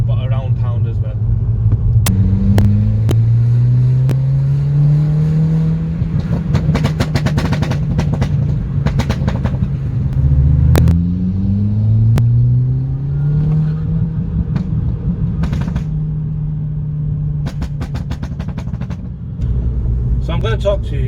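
Remapped 270 bhp MK5 Golf GTI engine revving, with rising and falling rev sweeps and crackling pops and bangs from the exhaust, loud and close, a voice talking over it.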